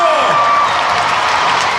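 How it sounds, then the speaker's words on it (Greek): Applause and cheering from a crowd at the Mad VMA 2016 music awards in the VIP area, a dense wash of clapping with scattered whoops, loud and close. "Ένα μεγάλο χειροκρότημα."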